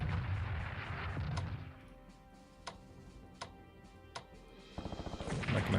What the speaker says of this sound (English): artillery will hit the troops at Smolensk